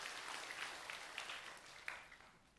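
A church congregation applauding steadily, a dense wash of many hands clapping at moderate distance, fading slightly toward the end.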